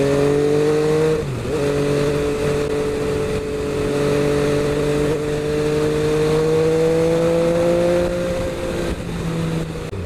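An MV Agusta F3 800 sports motorcycle pulling away, a loud steady engine drone that dips briefly then holds an even pitch, rising slightly and easing off near the end, with no talk.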